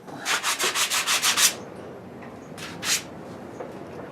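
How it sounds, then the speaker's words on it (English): Hand sanding on wood at a tenoner: a quick run of about eight rhythmic rasping strokes, then a pause and two more isolated scrapes, close and clear. "Give her a little sanding."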